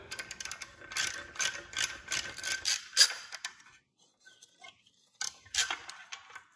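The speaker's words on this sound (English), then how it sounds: "I take an extension and a 10mm deep socket to remove it" A ratchet fitted with an extension and a 10mm deep socket works a corroded nut off an exhaust stud on a Fiat 500 Abarth, rapid close clicking bursts in quick strokes, a short pause, then more clicking.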